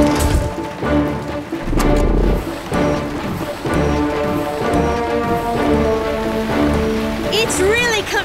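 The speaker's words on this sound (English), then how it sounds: "It's not just raining, it's flooding!" Heavy rain pours down in a dense, steady hiss during a desert flood, under a tense musical score, with occasional thuds and voices.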